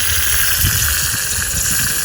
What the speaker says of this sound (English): And if I scroll in here, you can see some water flowing out still, and it's still leaking